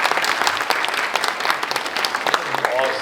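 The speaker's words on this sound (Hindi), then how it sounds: "एक बार आप सबके लिए जोरदार तालियां" Loud, dense applause from an audience at a session of a conference on financial services and Bharat's growth, steady clapping filling the whole stretch with a faint murmur of voices beneath.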